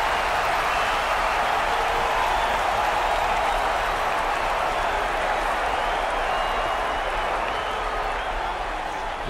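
A stadium crowd in the NFL Pro Era VR video game cheers as a dense, steady roar, loud and unbroken throughout.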